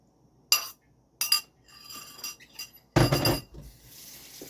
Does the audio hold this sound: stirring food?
yes